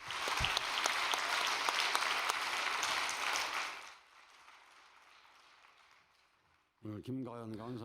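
Applause from an audience at a religious gathering, dense and steady for about four seconds, then dropping away to quiet room tone before a voice begins speaking near the end.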